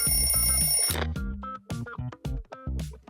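An alarm clock rings loudly and continuously for about a second, then breaks into short repeated electronic beeping bursts in a uneven rhythm.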